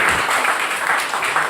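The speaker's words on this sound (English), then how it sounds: "Now you can clap for them." A church congregation claps for newly voted-in members, a brief, even wash of hand claps from a room full of people, moderately loud with no clear talk over it.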